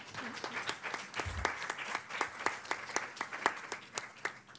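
An audience at an evening talk on news in the digital age applauds the speakers, a short stretch of moderate crowd clapping with distinct individual claps over a softer bed, heard from a middle distance.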